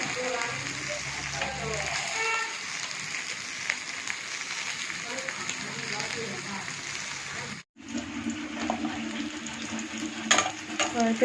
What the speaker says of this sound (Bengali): জ্যান্ত বাটা মাছ দিয়ে পটলের পাতলা ঝোল তার জন্য মাছটা ভাজা হচ্ছে প্রথমে